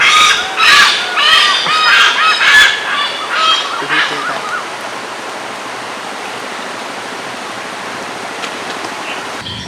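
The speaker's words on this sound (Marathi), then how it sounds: "त्यांच्या किलबिलाटातच जंगलाचा जिवंतपणा जाणवतो" Loud honking calls of a goose-like bird ring out in repeated bursts for the first few seconds in a forest, then fade, leaving a steady rush of flowing water.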